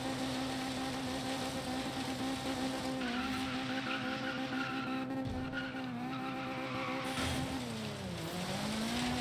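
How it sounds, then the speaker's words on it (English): A Mazda Miata in the Forza Horizon 3 video game holds a steady high-revving engine drone that bounces against the rev limiter, with pitch wavering and a brief tire squeal, loud and continuous throughout. "That rev limiter, though."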